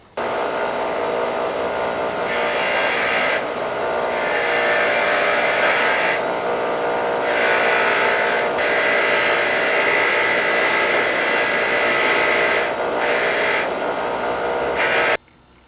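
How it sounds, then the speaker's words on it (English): A bench wire wheel spins against a part removed from a Triumph GT6, giving a loud, continuous whirring grind that rises and eases as the part is pressed in and pulled back, then stops abruptly. "every piece that comes off, you want to take it to the wire wheel and clean her all up"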